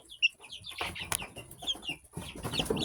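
Several chickens, among them a young rooster, cluck and chirp in short, irregular calls close by, with soft rustling between them and no talk.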